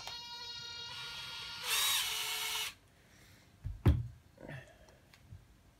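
Screws being driven out of a Philips electric shaver casing during a repair: a loud, one-second whine from a small powered driver, followed by a few close clicks and knocks from handling the parts.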